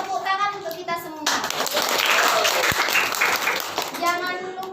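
Children in a classroom applaud everyone at the end of a micro-teaching lesson, loud continuous clapping that bursts in after a voice and fades back into speech near the end.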